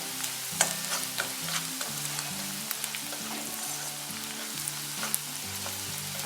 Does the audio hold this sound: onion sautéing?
yes